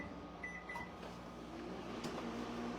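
A microwave oven hums steadily while melting a small amount of an ingredient for candied walnuts, with a couple of brief tones near the start and faint kitchen clatter; no one speaks.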